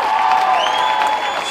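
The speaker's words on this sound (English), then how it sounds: "can I have a round of applause for both of these fighters?" Applause and cheering from a fight-night crowd at a heavyweight boxing event, a dense, steady wash of clapping with scattered whoops, loud and continuous throughout.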